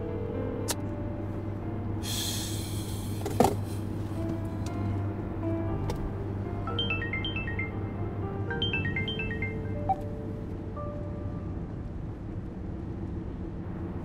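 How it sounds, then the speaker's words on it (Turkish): A phone ringback tone repeats as a short melodic pattern during an outgoing call, faint under steady background noise, with a few clicks and a brief hiss near the start. "Aç şu telefonu güzelim be."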